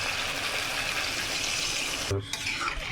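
Water goes into a hot frying pan of snakehead fish curry with potatoes and tomatoes, a dense steady sizzle that breaks into a short hiss and splutter toward the end.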